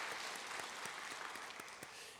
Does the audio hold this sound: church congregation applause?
yes